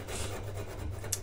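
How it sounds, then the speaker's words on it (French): Hand saw cutting through a plumbing pipe, a continuous close raspy scraping stroke with steady texture, fairly loud and heard alone. "il coupe avec une scie manuelle"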